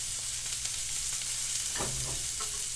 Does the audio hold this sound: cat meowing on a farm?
no